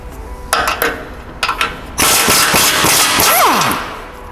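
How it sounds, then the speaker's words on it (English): A ratchet loosening large bull bar bolts on a Barra-engined vehicle: short bursts of clicking, then a louder run of rapid ratcheting with squeaky metal scrapes, close up. "now I'm just going to loosen the bull bar bolts"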